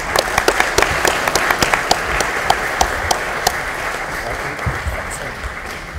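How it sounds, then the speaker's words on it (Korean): Sustained applause from an audience at a Democratic Party lawmakers' workshop, steady dense clapping with a few sharper nearby claps standing out, filling the whole stretch without speech. "힘내시라고 우리와 같은 큰 박수 부탁드리겠습니다"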